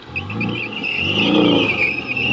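A Porsche 718 held on throttle while drifting, its engine droning steadily with a rising, wavering note and a sustained high tire squeal over it, fairly close and loud throughout.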